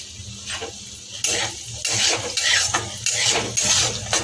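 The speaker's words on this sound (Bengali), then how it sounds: "কাজু কিশমিশটাও হালকা করে ভেজে আমি তুলে নেব" Cashews and raisins frying lightly in hot oil left over from frying paneer, a steady sizzle broken by repeated clinks and scrapes of a spoon stirring against the pan.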